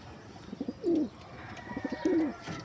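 Pigeon cooing outdoors, two clear low coo phrases about a second apart, fairly close with faint background hiss.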